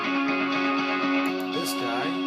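An effected electric guitar part plays an atmospheric line with sustained shimmering tones and soft repeating notes, steady and moderately loud, with nothing else over it.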